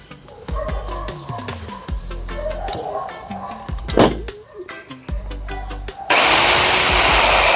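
A rotary hammer drill runs in short close bursts with a whirring motor, and a sustained loud, harsh grinding burst closes the sequence.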